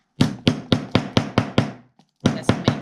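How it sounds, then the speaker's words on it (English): A hammer strikes metal snaps on a DIY spring basket, seven sharp, evenly spaced blows, a short pause, then three more, close and loud. "then I'll take my hammer"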